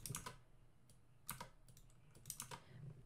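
Fast clusters of keyboard key clicks, close and crisp, in short bursts with brief pauses between them; no talking.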